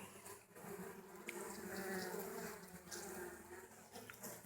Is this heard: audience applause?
no